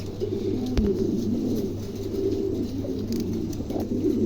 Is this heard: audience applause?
no